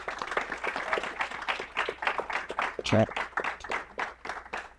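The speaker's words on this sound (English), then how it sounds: "Round of applause for Sean, y'all." An audience at a talk show claps for a guest named Sean, a steady patter of hands that holds for several seconds at moderate loudness.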